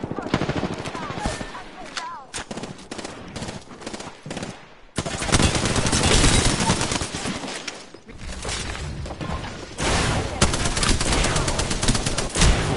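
Video game gunfire, long rapid bursts of machine gun fire and overlapping shots with brief pauses between volleys, loud and close throughout.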